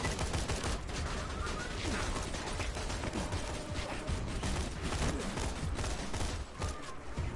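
Dense, rapid gunfire from a video game, Borderlands 2, shooting enemies from a bike, sustained and loud throughout with overlapping bursts and mechanical clatter.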